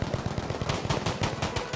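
Mounted machine gun in Battlefield V firing a rapid, loud burst of evenly spaced shots, close up and continuous for nearly two seconds with no talking.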